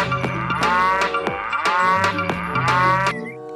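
A toy cow moos loudly several times in a row, long drawn-out lowing calls close by, with no talking.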